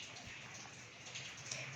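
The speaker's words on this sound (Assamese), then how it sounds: "ৰাতিৰ পৰা আকৌ বৰষুণেই দি আছে।" Rain that has been falling since the night before makes a steady, faint hiss of drops outdoors, soft and even throughout with no other sounds standing out.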